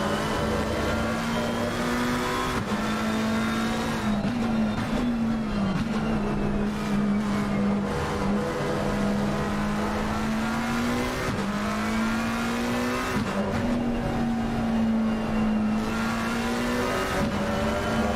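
Race cars lapping the Spa circuit in a racing video game, a loud steady engine drone with shifting pitch as gears change and revs rise and fall, continuous with no talk.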